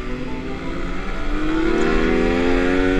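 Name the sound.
Suzuki Raider Fi motorcycle engine revving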